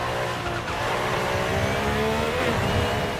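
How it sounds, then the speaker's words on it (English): A race car with a sequential gearbox and turbo in Forza Horizon 5 drives hard at full throttle, its dense engine roar and gearbox whine rising steadily and loudly, with possible tire squeal. "You can actually hear that there is a sequential gearbox in this car."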